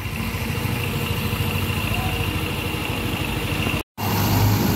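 A Yamaha Filano scooter engine idles steadily with a low, even hum, briefly cut out near the end before resuming.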